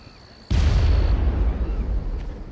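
A grenade blast in the Far Cry video game, one sudden loud boom with a rumbling tail that fades over about two seconds.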